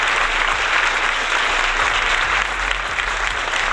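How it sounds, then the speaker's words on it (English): Continuous dense applause from a crowd, steady and loud throughout like a wash of many hands clapping at once, with no individual claps standing out and no voices. "and I want to applaud you."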